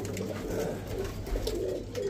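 Pigeons coo softly and continuously in a low, rolling murmur, with a hum of ambient noise in the background.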